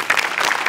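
A studio audience at a Marathi comedy show claps steadily and loudly, a dense burst of applause that continues to the end.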